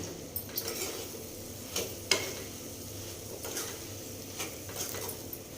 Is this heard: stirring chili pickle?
yes